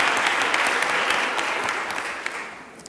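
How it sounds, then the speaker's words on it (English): A room of listeners at a gubernatorial candidates forum applauds steadily, the clapping dense at first and gradually easing off toward the end. "Let's hold our applause till the end,"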